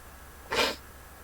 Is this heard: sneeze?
yes